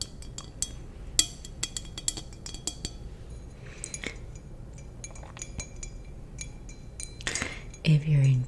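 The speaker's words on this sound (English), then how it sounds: "Some glass tapping." Fingertips or nails tap on wine glasses in a close, quiet ASMR session, giving irregular bright clinks and chimes scattered among soft handling noises, ending in a louder rustle.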